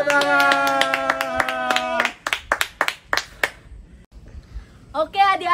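Children at a Good Friday worship session clap hands in a quick series of sharp, close claps right after a sung phrase, followed by a pause and then singing resuming.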